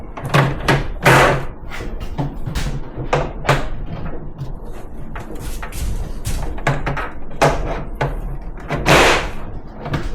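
A cabinet drawer is fitted and snapped into its runners during a kitchen renovation, a run of loud sharp clacks, thumps and sliding knocks in uneven bursts, close by and with no talk.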